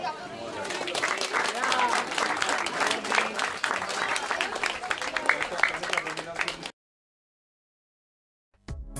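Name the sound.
audience applause at a triathlon photo session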